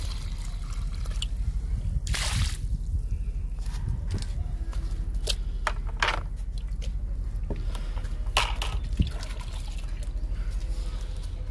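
Liquid papaya peel fertilizer poured onto a jasmine plant in a tub: soft intermittent splashes and drips of liquid hitting soil and leaves, close by.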